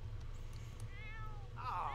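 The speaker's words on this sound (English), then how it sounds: "The cat is still being a caterwaul" A cat in The Sims video game caterwauls in two drawn-out, wavering meows, the second louder, over a steady low background hum.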